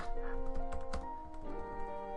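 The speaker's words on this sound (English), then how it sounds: "If you hear me typing" Computer keyboard typing during a let's play of Hajimari no Kiseki, a quick run of soft clicks heard close under steady game music.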